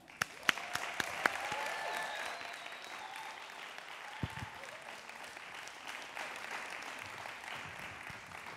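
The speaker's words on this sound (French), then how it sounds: "Sous un tonnerre d'applaudissements, mesdames et messieurs, je vous présente Philippe." An audience applauds a speaker being introduced at a digital culture event, steady hearty clapping from a room full of people with a few sharp close claps and no talk over it.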